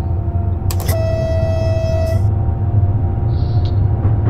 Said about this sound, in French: je me permets de sortir en vue extérieure le super klaxon de cette Michelin